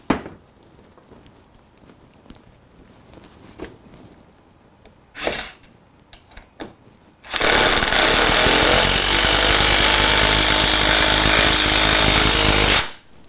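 After a few scattered clicks and bumps, a Festool Ti-15 hybrid impact driver buzzes loudly and continuously for several seconds as it drives a screw, then stops abruptly.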